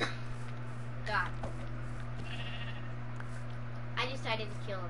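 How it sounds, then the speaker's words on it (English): Sheep bleat in a crafting video game, several wavering calls spread across the clip over a steady hum, with a player's voice speaking in between. "Sheep, come here, sheepsies."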